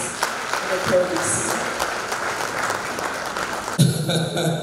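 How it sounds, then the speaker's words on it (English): Audience at a university law faculty public lecture clapping for the Pro-Vice-Chancellor, a sustained round of applause mixed with voices, ending with a sharper clatter near the close. "Please, a round of applause for the Pro-VC."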